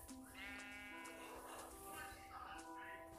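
Sheep in the Minecraft video game bleat in wavering, drawn-out cries that repeat across a few seconds, loud and close.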